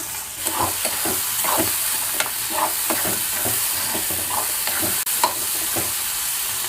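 Brinjal pieces sizzle and fry in a pan with softened tomato and onion, while a spoon stirs them in steady repeated scrapes over a constant close hiss; no one speaks.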